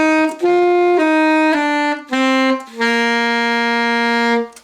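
An alto saxophone plays a tongued note exercise: a short run of clear, separately articulated sustained notes, loud and close, with brief gaps between phrases and no talking.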